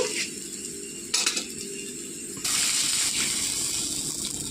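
A metal spoon scrapes and clinks in a pot of dal as tempering is stirred in, with a steady hiss of steam rising partway through.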